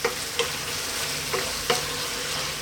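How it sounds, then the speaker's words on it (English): Cooked tricolour penne pasta being stirred through a creamy mushroom and tomato sauce in a pan, with a steady low sizzle and a few soft scraping stirs spaced through. "Now we're going to drop in our cooked pasta."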